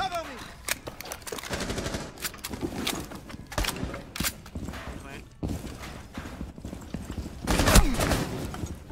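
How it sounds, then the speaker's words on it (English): Rapid bursts of gunfire from the tactical shooter video game Rainbow Six Siege, sharp shots cracking in quick irregular clusters, some close and loud, others more distant, over a busy game soundscape. "I'm getting shot at from somewhere."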